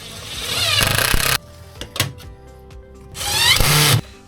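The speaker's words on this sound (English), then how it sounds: "And Tom will be attempting to now chip away some of the brickwork so that SWA can actually slide in." A power tool chipping away brickwork to make an entry for SWA armoured cable, heard as two loud close bursts of grinding drilling with a short pause between them that holds a few knocks.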